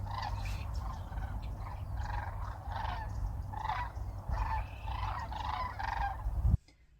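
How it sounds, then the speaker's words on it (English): Sandhill cranes in winter near Sacramento give repeated rattling, honking calls in an uneven rhythm, a steady chorus that carries from some distance over a low outdoor rumble. "There's sandhill cranes up there."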